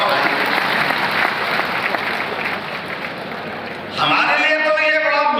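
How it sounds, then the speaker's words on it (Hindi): Crowd applause at a political rally rolls as a loud continuous patter of many hands, thinning briefly before a voice comes in over the tail of the clapping. "अरे ताली वाली तो बजा"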